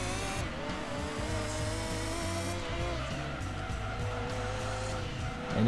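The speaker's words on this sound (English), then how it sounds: "typical Gran Turismo engine note" A race car engine in Gran Turismo 2 holds a loud, steady buzzing drone at high revs throughout, with slight pitch shifts as it accelerates and a rise in volume at the very end.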